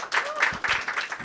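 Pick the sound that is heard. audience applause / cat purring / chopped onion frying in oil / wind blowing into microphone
audience applause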